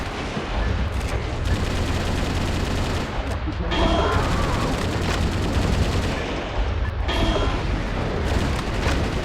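Sustained gunfire and missile explosions from the mech combat game Metal Wolf Chaos, a dense, loud barrage of rapid shots and booms running continuously, with brief dips in intensity between bursts.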